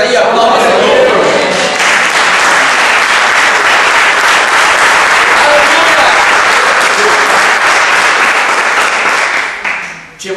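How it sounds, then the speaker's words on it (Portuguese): A church congregation applauds steadily for about ten seconds, a dense, loud wash of clapping that holds even throughout before tapering off at the very end. "Deu glória a Deus aí, aplauda o Senhor."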